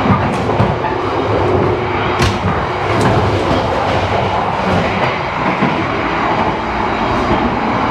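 A train rolls steadily along the rails on Java, Indonesia, with a loud, constant rumble and occasional sharp clicks and squeals, heard from inside the carriage of the Argo Muria train.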